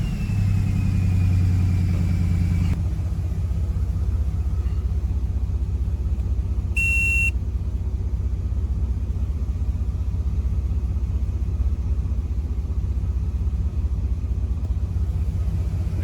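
A Chevrolet S-10 engine runs rough at idle, a steady low rumbling drone close to the microphone, with a brief high electronic beep partway through.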